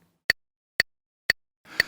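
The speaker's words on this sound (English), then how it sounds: "a metronome is simply a time-keeping tool that you play alongside to" A metronome ticks four times at an even half-second pace, each click sharp, close and isolated against silence, with a faint wash of noise under the last tick.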